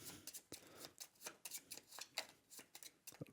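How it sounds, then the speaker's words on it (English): Cards from a board game deck being shuffled by hand at close range, a quiet run of soft riffling bursts and papery snaps with no talking. "Just a quick shuffle."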